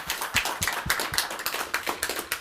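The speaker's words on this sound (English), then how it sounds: "I think you deserve a warm round of applause." A small audience at a Scala programming meetup applauds the speaker, with a sparse, close-sounding patter of individual claps in an uneven rhythm and no full roar.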